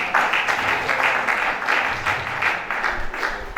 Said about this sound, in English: A big round of applause for Prince Ogundipe.